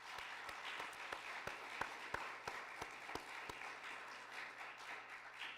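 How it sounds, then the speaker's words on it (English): Audience at a finalist presentation event applauding the guest judges, with sparse, distinct claps over a quiet room, fairly faint and at a distance, steady for several seconds. "Can we give them a round of applause?"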